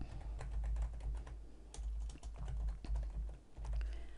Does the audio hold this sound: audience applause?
no